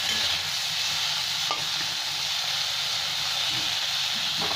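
Chutney ingredients fry in a pan with a steady, dense sizzle and hiss that holds evenly throughout, close and continuous, with no talking.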